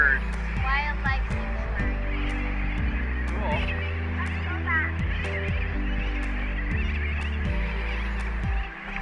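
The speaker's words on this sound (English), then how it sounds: "Lots of birds." Seabirds call repeatedly around Rabbit Island off Oahu, Hawaii, with honking goose-like cries rising over a steady low hum, a dense chorus that continues throughout at moderate distance.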